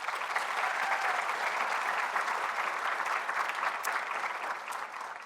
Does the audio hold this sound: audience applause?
yes